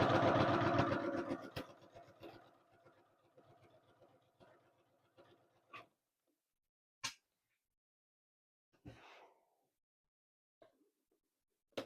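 A sewing machine stitching a kawandi quilt runs in a steady mechanical burst that slows and fades, followed by a few isolated clicks and thumps in an otherwise quiet room.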